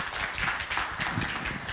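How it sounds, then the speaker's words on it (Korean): Audience at a community forum applauding a presenter, steady dense clapping from a crowd throughout. "대전광역시 서구 마을공동체지원센터 이양수 센터장님께 다시 한번 박수 부탁드립니다"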